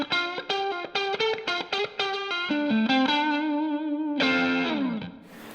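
Electric guitar played through a TS10 overdrive, a quick run of distinct plucked notes followed by a long sustained note and a fresh struck chord, crunchy and close, fading out at the end.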